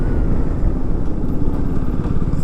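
Several motorcycles descend the Agumbe ghat road through dense forest at dusk, their engines giving a steady, close, rumbling drone with a clattery low end and no talk over it.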